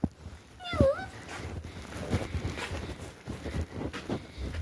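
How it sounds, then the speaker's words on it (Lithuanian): A cat gives one short, rising-and-falling meow near the start, followed by people talking and faint shuffling movement. "Ai, katinas."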